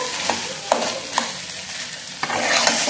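Hilsa fish head cooking with taro leaves in a pan, with a soft continuous sizzle broken by several sharp scraping stirs of a spatula, close and without talk.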